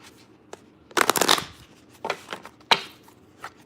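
Tarot cards being shuffled in several quick riffling bursts, close and crisp, with short pauses between them and no talking.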